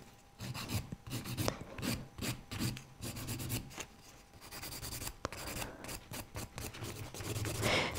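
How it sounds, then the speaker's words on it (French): Fine-grit nail file buffing the finish off semi-permanent nail polish, a close, dry rasping in quick back-and-forth strokes, rhythmic and continuous with brief pauses. "Donc vraiment on utilise une lime à grains très fins."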